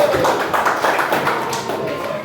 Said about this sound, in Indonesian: Beri tepuk tangan buat kelompoknya Masya